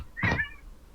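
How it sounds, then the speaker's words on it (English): A single close cat meow, short and clear, rising then fading in an otherwise quiet room. "I hear cat."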